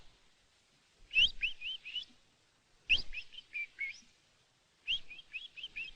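Cartoon bird chirping in three separate bursts, each a quick run of four or five bright, whistled tweets, clear and close against near silence.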